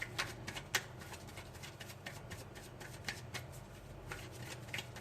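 Tarot cards being shuffled by hand in a quiet room, a steady run of soft riffling and flicking with sharper card snaps scattered throughout, close and fairly faint, with no talking.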